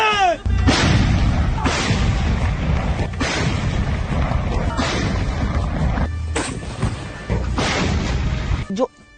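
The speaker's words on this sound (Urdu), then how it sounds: "پھر توپوں کی آوازیں اور گھنگرج سنی جائے" Heavy artillery cannons fire in a series of loud, booming blasts, roughly one every second or two, close and powerful.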